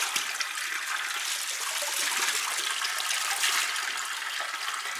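Spring water pours in a steady, close rushing stream as water is collected at a village in Ingushetia, continuous and alone without voices.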